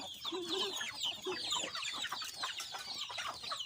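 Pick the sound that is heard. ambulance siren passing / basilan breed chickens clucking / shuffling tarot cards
basilan breed chickens clucking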